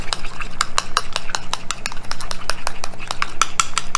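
Buffalo dipping sauce being stirred with a few drops of hot sauce mixed in for French fries, a close, quick run of light utensil scrapes and clinks against a dish, steady and alone.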